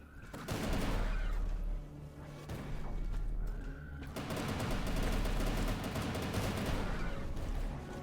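Explosive turrets fire in the steampunk-styled boomer shooter Incision, a dense barrage of loud gunfire and booming blasts that runs almost without pause, with a brief lull midway before the firing picks up again.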